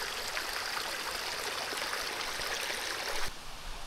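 Water flowing across a cycling path in the Jeseníky mountains makes a steady close rushing and trickling sound, like a small stream, for a few seconds, with no talk.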